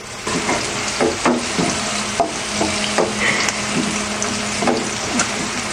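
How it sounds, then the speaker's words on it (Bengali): Sliced onions fry in a hot pan, giving a steady loud sizzle broken by repeated scraping stir strokes about once a second, with no talking. "এমনভাবে ভাজতে হবে যেন লাল না হয়ে যায়, বাদামিও না হয়ে যায়।"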